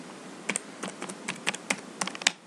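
Quick typing on a computer keyboard, a run of close, crisp key clicks in an uneven rhythm, heard alone with no voice.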